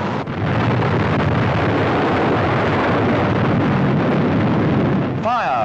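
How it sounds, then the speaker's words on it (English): Archival footage of a rocket launch explosion: a loud, dense, continuous roar fills about five seconds without a break, then gives way to a brief tonal sound at the end. "Fire followed the explosion."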